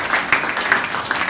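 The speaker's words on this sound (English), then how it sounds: "let's give a big round of applause to C24/7" A live audience at a health product presentation applauds, a brief burst of dense, steady clapping from many hands.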